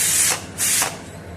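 Steam hisses from a pressure cooker whistle while seeraga samba mutton biryani cooks, two loud bursts close by, the second starting about half a second after the first ends, with no voices.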